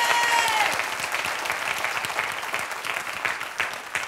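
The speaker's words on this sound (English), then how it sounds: "give the Lord a hand clap of praise one more time" Church congregation giving a hand clap of praise, a dense, loud burst of many hands clapping together, sustained throughout and gradually thinning, with no talk over it.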